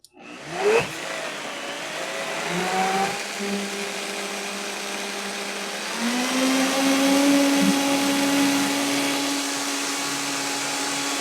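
A blender whirs through pesto as olive oil goes in, starting with a sudden jolt and then holding a loud, steady motor whine. The motor rises in pitch midway and settles into a continuous churning roar.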